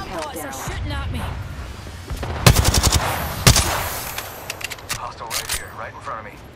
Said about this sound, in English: Bomb bots are shooting at me.